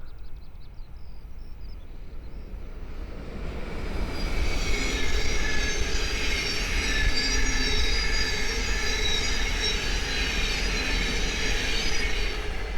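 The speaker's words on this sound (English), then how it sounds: "the next train to pass by is a Thameslink 700 from Cambridge to Brighton." A Thameslink Class 700 train rolls past nearby on the East Coast Main Line at Great Wymondley, rising from a distant rumble to a loud steady roar of wheels on rails with a high metallic squeal.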